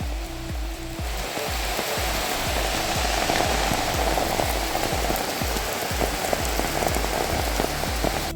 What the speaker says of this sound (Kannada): ಅದ್ರಾಗ ಜೋಶ ಮಳೆ ಐತಿ